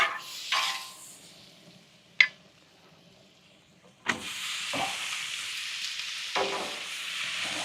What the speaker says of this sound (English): We're gonna put the cube steak on there